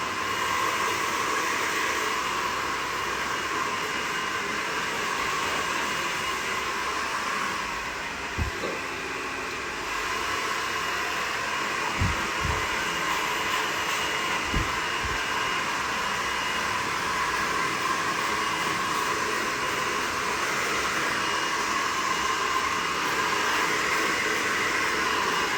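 A hair dryer roughly dries short layered hair in a pixie cut, blowing in a loud, steady, close-up whoosh that carries on unbroken, with a few faint bumps and knocks underneath.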